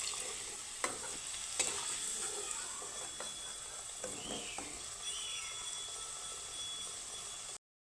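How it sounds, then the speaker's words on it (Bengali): Potato pieces with a little salt and turmeric fry in oil, giving a soft, steady sizzle with occasional scraping clicks of stirring, fairly quiet and close, without voices. "সামান্য পরিমাণে নুন হলুদ দিয়ে আলুটাকে ভেজে নেব"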